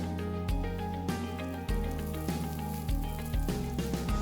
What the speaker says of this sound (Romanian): Avem tigaia încinsă cu ulei, adăugăm ciupercile